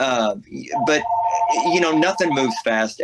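A phone rings with a steady electronic tone during a conversation, running for over a second beneath a man's speech.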